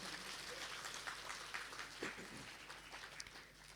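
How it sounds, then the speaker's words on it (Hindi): Faint, distant applause rises from an audience at a spiritual gathering, a soft, continuous patter of clapping heard through a low room hum. "अब बजा दीजिए ताली।"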